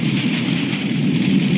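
Heavy rain from Hurricane Dorian pours down in a loud, continuous roar with a low rumble of thunder underneath, close and unbroken, with no speech.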